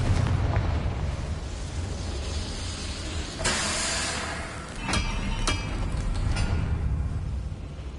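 Confringo spell explosion in the video game Hogwarts Legacy, a loud rumbling blast with a sharp burst of crackling debris in the middle, followed by further hissing impacts, fairly close and without speech.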